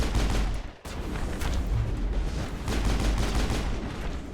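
Dense, continuous gunfire from a Mass Effect firefight: rapid overlapping shots, loud and close, with a brief break early on before the shooting resumes.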